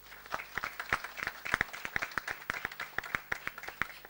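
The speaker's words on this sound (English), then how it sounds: "Please, once again, do give a huge round of applause to this legend right here." Applause for a film legend at a hand-print tile unveiling, heard as sparse, distinct individual claps from a modest audience, moderately close and steady without voices.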